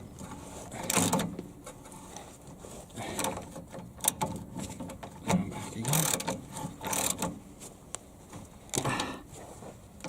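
Ratchet wrench working a rusty, dirt-clogged bolt on a Chevy Blazer brush guard, several bursts of rapid clicking spaced across the clip with pauses between them, close and moderately loud, no talk.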